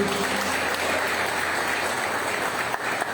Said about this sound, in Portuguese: Aplauda Jesus pela vida da Ju